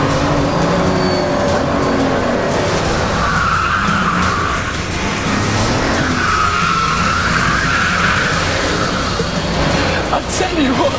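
A 1,000-horsepower Bugatti Veyron in first gear powers out of a hairpin, its tires squealing and skidding under a loud roaring engine, with someone talking over the noise throughout.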